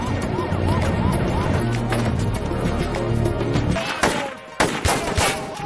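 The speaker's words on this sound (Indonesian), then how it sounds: "pergi ke lokasi yang sedang terjadi baku tembak antara pihak kepolisian dengan anggota kartel narkoba" A film shootout between police and drug cartel members at a border fence: a rumbling, busy scene with tonal background sound, then sharp, loud gunshot bursts near the end.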